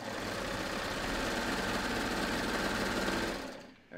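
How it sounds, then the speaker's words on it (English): A serger stitches the side seams of a tee shirt, a loud continuous motor whir with a fast rattling hum that cuts off abruptly near the end. "I'm just serging my side seams here."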